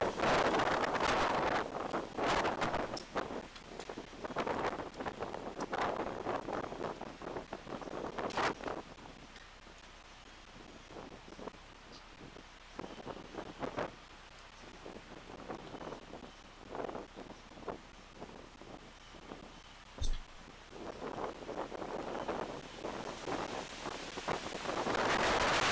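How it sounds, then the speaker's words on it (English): Hurricane Ida winds battering the microphone in gusting, roaring bursts that swell and ease, with no voices. "No, dude, it's a hurricane. What am I supposed to do with the wind?"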